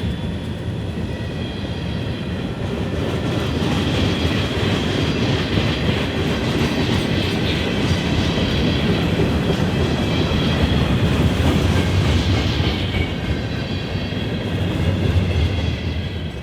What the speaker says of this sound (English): catch the final Burlington to Rutland BDRD freight train passing the station